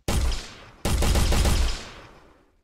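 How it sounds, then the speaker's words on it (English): Two loud bursts of projectile fire from a weapon in an Unreal Engine multiplayer game, the first short and the second longer before tailing off into silence, with no talking. "let me shoot the box and have it fly across"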